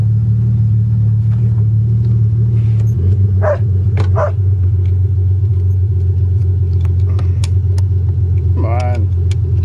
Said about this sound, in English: I just got to warm the wheels up and see which brakes are seized. Just a bit of driving.